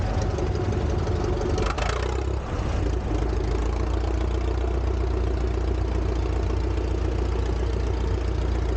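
A 1920 Allis-Chalmers 20-35 tractor at an antique tractor show idles with a steady, low, rumbling engine note, close and continuous without change, with no talking.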